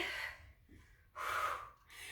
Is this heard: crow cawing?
no